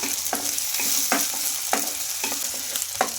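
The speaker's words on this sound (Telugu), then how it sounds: "ఈ ఆరు ముక్కలు కూడా కొంచెం ఫ్రై అయ్యే వరకు అయితే వేయించుకోవాలి" Potato pieces frying with onions in a pan, a continuous sizzle broken by regular scraping strokes of a spatula roughly every half second, close and fairly loud, with no voices.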